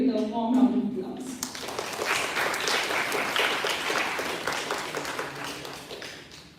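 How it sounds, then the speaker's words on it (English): Audience applause welcoming a speaker at a Women in STEM panel discussion at NISER, a dense wash of clapping that rises after a brief voice and carries steadily to the end. "So let us welcome her as well with a warm round of applause."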